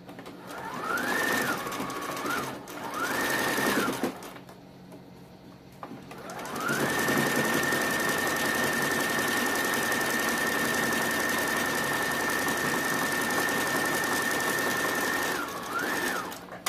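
Home sewing machine running a zigzag stitch on baby slippers, with two short bursts followed by a long steady run of rapid whirring, close and loud, and a brief pause in between.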